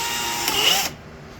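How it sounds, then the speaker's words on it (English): A handheld power drill whirs at high speed, spinning a rusty axle to polish it, then cuts off abruptly after under a second. "just chuck it in your drill."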